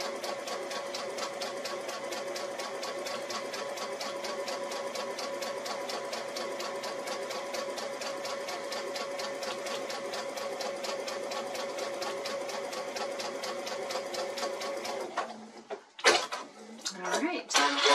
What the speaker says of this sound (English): sew down the other side